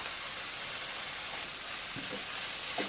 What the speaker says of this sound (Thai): ผัดผัดผัดค่ะ